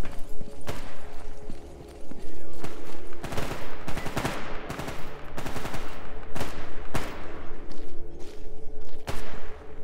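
Gunfire erupts in Stalker GAMMA, with sharp, loud shots cracking close by in irregular bursts and single reports over a steady background hum.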